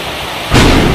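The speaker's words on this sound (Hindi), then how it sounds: "देखो कितना ज़ोर से बारिश" Heavy monsoon rain in a village with thunder, a steady loud hiss of downpour that swells abruptly halfway through into a deep, booming rumble, close and overwhelming, with no talking.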